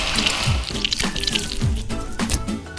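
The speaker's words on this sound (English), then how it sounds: "pour some water in" Water is poured into a pizza dough mix with a little sea salt, a steady splashing flow with recurring soft mechanical clicks and chirps throughout.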